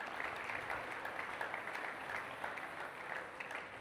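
An audience in a hall applauds in a steady, fairly faint wash of clapping that holds evenly throughout without talk.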